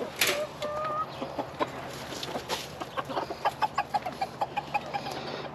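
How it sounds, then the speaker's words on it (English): Backyard chickens clucking while they feed on a pile of vegetable greens, several birds making short, repeated clucks that grow into a steady quick rhythm, close and moderately loud. "clucking with joy, super happy"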